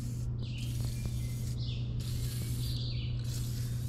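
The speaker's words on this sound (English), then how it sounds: "give them a good soak down with the Croil" Penetrating oil sprayed from an aerosol can onto the wheel nuts of a 1960s Galion road grader: three hissing bursts, close and clear, over a steady low hum.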